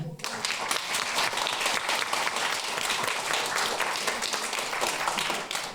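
An audience at a Christmas show applauds warmly, dense steady clapping filling the whole stretch at an even, fairly loud level from start to finish.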